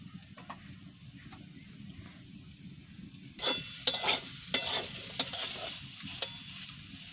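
Round banana slices fry in a wok over an earthen stove with a steady hiss of oil, and a spatula scrapes and clinks against the metal in several louder bursts midway.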